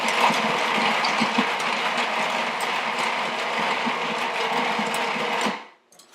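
A blender purees roasted lemons for ice cream, a loud, rattling, grinding whir that runs for several seconds before cutting off abruptly near the end, with no voices.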